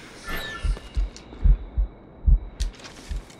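A heavy, thumping heartbeat from the video game Assassin's Creed Rogue, where the character has been poisoned, pulses in paired low beats at a steady, slightly slow rhythm, loud and close over faint game ambience.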